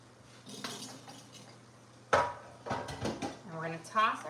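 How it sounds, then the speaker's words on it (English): A metal baking sheet clanks and rattles as it is picked up and set down in a kitchen, with a sharp clatter midway and a person speaking throughout. "So let me grab my baking sheet here."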